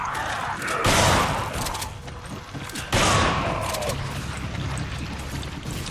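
Bursts of rapid gunfire crackle in a noisy Resident Evil 5 game scene, two loud volleys about two seconds apart amid steady background rumble.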